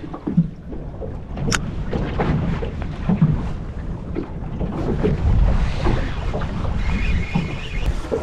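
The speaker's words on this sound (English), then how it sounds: "Yeah, that's windy." Gusty wind buffets the microphone continuously on open water from a motoring boat, a low rumbling roar with choppy water sounds mixed in, loud and close throughout.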